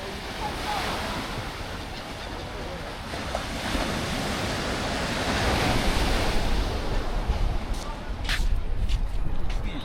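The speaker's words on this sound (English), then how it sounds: "Haibian means seaside." Sea waves wash along the seaside in Qingdao on a cold winter day, a dense, continuous roar of surf mixed with wind buffeting the microphone, swelling slightly louder toward the end.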